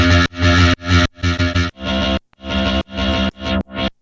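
Electric guitar through an almost clean amp, strummed in short choppy bursts with slight grit, a run of quick stabs and held chords separated by brief gaps.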